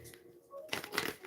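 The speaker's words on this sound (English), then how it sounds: "Let's get maybe 3 more shuffles" Tarot cards shuffled during a live reading, a soft riffling flutter rising after a quieter start, close and fairly faint, with no talk over it.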